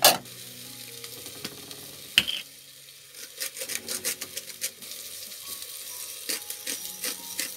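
Mushrooms cooking in a pan for beef bourguignon, a steady sizzle with a loud clank at the start, a pause, then a run of quick scraping stirs and clinks.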